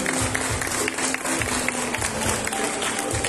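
Crowd applause at a fair queen coronation, the Flor de la Feria in Concepción, a steady, dense clapping that holds for the whole stretch with a faint rhythmic thump beneath it.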